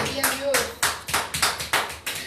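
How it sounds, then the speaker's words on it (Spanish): Several people clap during a church sermon, giving about nine sharp, fairly evenly spaced claps in quick rhythm at moderate volume. "¿Hay alguien que le dé un aplauso al Señor?"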